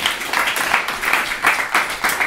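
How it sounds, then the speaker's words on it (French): Audience applause during a live public hypnosis session in a practitioner's office, a steady wash of clapping hands at moderate level, swelling in several waves without talk. "On l'applaudit bien fort."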